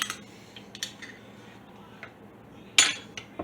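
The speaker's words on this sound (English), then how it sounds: "I take the spoon and just stir it up to make sure that everything is being thoroughly coated by the pickling liquid" A spoon stirs sliced red onions in pickling liquid inside a glass jar, with scattered clinks and taps against the glass, one sharper clink near the end, over a quiet background.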